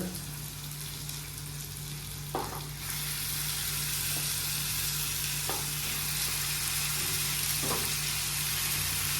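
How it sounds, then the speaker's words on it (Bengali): Chicken frying with onions in a pan, a steady close sizzle running throughout with a few faint clinks of stirring. "চিকেনটা একসাথে এখানে ফ্রাই হবে এখন"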